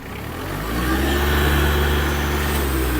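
Iseki TG-29 Japanese mini tractor engine picking up revs, a steady loud mechanical drone swelling over the first second and then holding at a higher, even pitch, close by.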